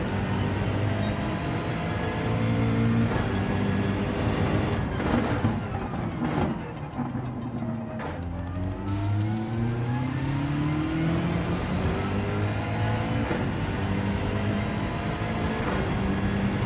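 A BMW M6 GR3 race car in Gran Turismo 7 powers out of a corner at Suzuka, its engine loud and close, climbing through gears with repeated rising whines and brief shift dips before revving hard again.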